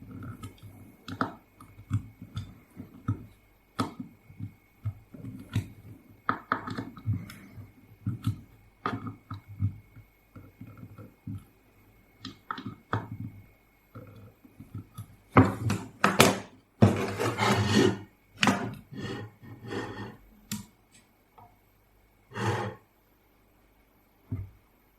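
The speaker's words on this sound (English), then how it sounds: "Now let's try driving in the screw into a hardwood board. No pre-drilled holes" A screw is driven into a hardwood board with no pre-drilled hole, making a series of creaking clicks that build to a louder, strained grinding burst before easing off.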